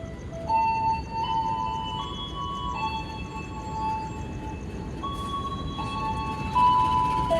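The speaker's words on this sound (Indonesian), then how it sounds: "Sulingnya agak aneh ya." The horn of the KA Jayakarta train's locomotive 204 sounds as several sustained, slightly odd-sounding tones that shift in pitch over a rumbling train background, fairly loud and steady throughout.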